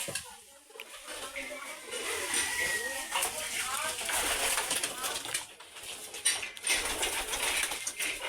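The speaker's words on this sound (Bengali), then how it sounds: "এই যে দেখুন অনেক রকমের কবিতর আছে গিরিবাজ আছে বাংলা কবিতর আছে" Giribaz and Bengali pigeons coo softly and repeatedly inside a pigeon loft, with a faint wing flutter and indistinct voices in the background.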